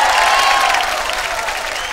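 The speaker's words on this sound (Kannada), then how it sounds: "ವಡೀರೋ ಚಪ್ಪಾಳೆ" A studio audience at a Kannada comedy show claps in a dense, loud burst of applause with a faint cheer, fading slightly over two seconds.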